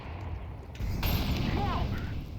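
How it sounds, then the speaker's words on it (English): A grenade explodes in the Counter-Strike map de_train, a sudden loud broadband blast that holds as a rumbling roar over steady game background noise, with a voice briefly audible. "Grenade."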